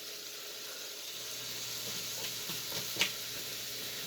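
Broccoli sizzling in a frying pan alongside beef, a steady faint hiss and crackle with a few brief stirring clinks partway through, no talking.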